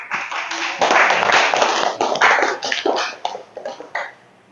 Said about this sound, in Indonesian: diberikan tepuk tangan